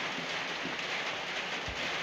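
Light rain falling outdoors in the Philippines, a soft steady patter with scattered drops, close and even, with no voices.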